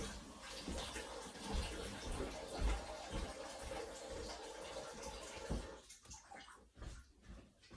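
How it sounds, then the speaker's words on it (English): Water runs steadily from a tap in a mobile home, a continuous broadband rush that holds for most of the stretch and then breaks into patchier, fainter splashes toward the end. "I got to stop this water."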